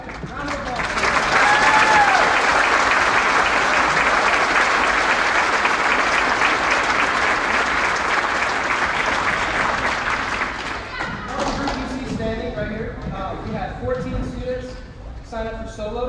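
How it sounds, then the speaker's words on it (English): At a school spring concert for 6th and 7th graders, the audience gives sustained loud applause for the solo and ensemble students, cheering on top, then it dies down as voices and murmuring take over. "Round of applause."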